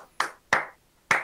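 Three sharp, separate hand claps ring out close by at an uneven pace, with quiet gaps between them.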